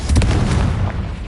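The Confringo blasting spell goes off in Hogwarts Legacy as a loud, close explosive boom with a low rumbling body that fades quickly. There is no talking.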